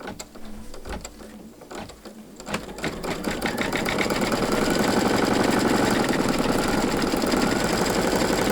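A sewing machine stitches a fabric applique onto a bunny pillow wrap, starting with a few scattered clicks and taps, then speeding up into a loud, steady, fast mechanical whir that runs without a break to the end, close up and without talk.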